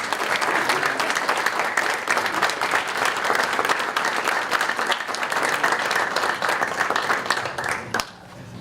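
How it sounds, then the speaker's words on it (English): Sustained audience applause fills a board of education meeting room, dense, loud clapping from many hands continuing for about eight seconds before tapering off. "Come on, you get applause too,"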